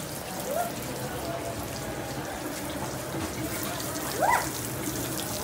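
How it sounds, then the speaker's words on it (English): A laminar-flow water fountain at Disney World's Animal Kingdom gives a soft, steady watery hiss within broad outdoor noise, with a brief faint splash near the end. "Here's a perfect example of a laminar flow."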